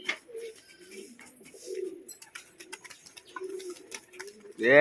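Domestic pigeons coo in low, repeated throaty bursts close by, with faint ticking and rustling around them and a louder sound cutting in at the end.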